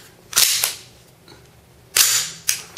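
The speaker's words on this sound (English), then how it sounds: "The slide itself makes a very nice metal sound to it." The metal slide of a KWA NS2 Sig Sauer P226 airsoft pistol is racked twice, close and crisp; each rack is a sharp pull-back clack followed by a quick snap forward, with quiet pauses between.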